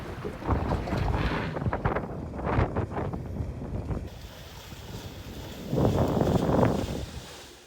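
A catamaran sails quickly past on open water, its rushing hull and splashing waves swelling loud and close amid heavy wind buffeting, easing off, then surging again near the end.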